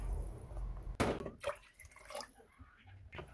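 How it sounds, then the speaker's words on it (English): Water is poured from a bowl into a pot for vegetable beef soup with sesame oil, making a brief close splash and trickle, followed by faint drips and small liquid sounds against quiet kitchen background. "I'm going to add 2 bowls of water"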